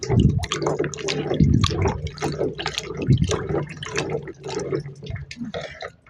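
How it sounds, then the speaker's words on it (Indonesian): Cooking water for sardines with jengkol in balado is poured off and drained in a home kitchen, giving a steady splashing, dripping pour at close range with no speech over it. "Tuh, buang airnya."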